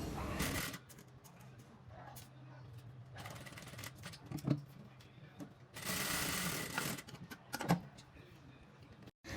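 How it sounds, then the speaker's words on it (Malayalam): A sewing machine runs in short bursts of stitching along the folded edges of fabric for a puff-sleeve crop top, its whirring broken by quiet pauses and small clicks of handling. "ഈ മെറ്റീരിയലിൻ്റെ 3 സൈഡും ഒന്ന് 4 ഫോൾഡ് ചെയ്തിട്ട് സ്റ്റിച്ച് ചെയ്തെടുക്കാം"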